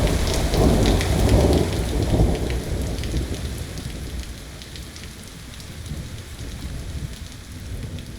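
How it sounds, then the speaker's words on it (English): Heavy rain pours steadily under rolling thunder in a storm strong enough to flood a river, loudest in the first few seconds before easing to a dense, constant hiss of rainfall. "The storms came with a strength more than the river could hold"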